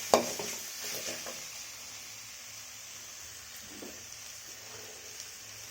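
Vegetables sauté in a pan while vada curry is cooked, a soft, steady sizzle with an occasional stir and a faint clink of the pan, close by and quiet.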